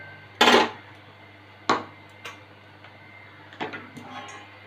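A metal lid set down over a cooking pot of gourd shoots with eggplant and potato, giving a sharp clatter followed by a few lighter knocks and taps close by.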